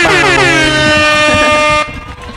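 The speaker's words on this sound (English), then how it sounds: "let's hear that air horn again." A loud, sustained air horn blast at a high school football game, with a rich stack of harmonics, holding steady for nearly two seconds before cutting off into a fading tail.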